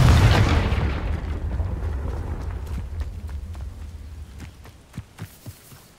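A Confringo blasting spell in Hogwarts Legacy erupts in a loud, booming explosion that rumbles and slowly decays, followed by several smaller sharp impacts toward the end.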